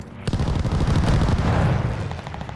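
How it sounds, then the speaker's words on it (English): Airstrike explosions in a first-person shooter video game, a dense, loud run of booming blasts and rapid gunfire-like bursts rolling together for about two seconds after a short quiet lead-in. "Friendly sending an airstrike"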